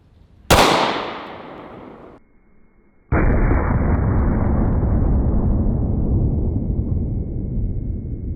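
A Sig 365 pistol fires 124 grain Hornady Critical Duty rounds: two loud, sharp shots about two and a half seconds apart, the second followed by a long ringing decay, with no talking.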